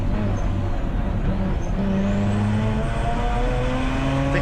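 Mazda RX8 race car passing on the Snetterton circuit, its engine spluttering and down on pace, a loud drone with shifting engine tones throughout.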